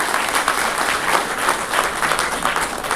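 An audience claps for two mayors at a Uttar Pradesh government gathering: a continuous, even wash of many hands clapping together, unbroken and without speech for the whole stretch.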